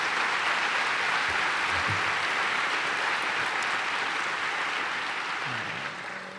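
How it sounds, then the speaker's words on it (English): An audience at a presidential speech in Estonia applauds steadily, a dense sustained clapping that fills the room and fades slightly toward the end, with no voices over it. "Please give Oscar a big round of applause for the great job that he did."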